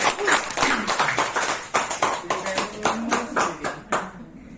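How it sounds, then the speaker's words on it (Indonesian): A small group claps at a sales training session, a loose run of sharp, distinct hand claps spread across the clip with uneven spacing and a few voices mixed in. "Tepuk tangan."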